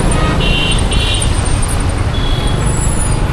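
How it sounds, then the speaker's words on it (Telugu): Busy traffic on a newly laid road in Uppal, with a steady roar of cars, buses and trucks close by and a couple of short horn toots sounding over the continuous engine noise. "కొత్త రోడ్ వేసినా కూడా ట్రాఫిక్ అంతే ఉంది కదరా."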